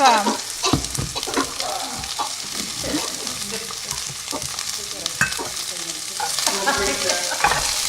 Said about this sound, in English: So we're going to add our mirepoix in this one as well.